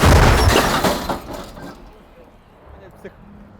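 Artillery cannon fires near Bakhmut, one loud blast up front that decays into a long rumbling tail, with faint noise and a small knock afterward.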